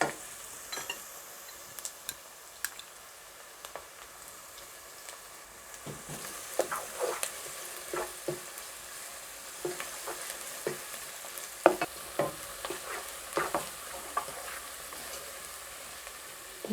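Crushed garlic frying in a pan for Kenyan matoke, a quiet, close sizzle with scattered clicks and scrapes of a utensil stirring, growing a little busier toward the end, no voices.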